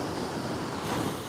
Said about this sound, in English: just recording the waves for an ASMR video